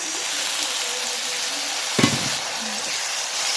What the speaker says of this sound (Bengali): যে মশলাটা কষে নেওয়া হচ্ছে